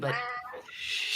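A cat meows in a quick, close call that stretches out briefly, while a person talks at about the same moment.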